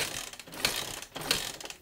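A 1973 Honda CB500 with a dead battery and worn piston rings being kicked over, giving two evenly spaced mechanical clunks with ratcheting whirs between them.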